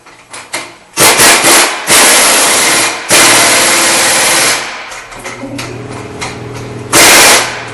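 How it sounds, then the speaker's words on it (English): A power tool runs in loud bursts while tightening the top nut of a rear strut on a 2008-2013 Toyota Highlander, with a whirring, rattling buzz close by and short pauses between pulls. "I'm going to tighten up the nut up on top here."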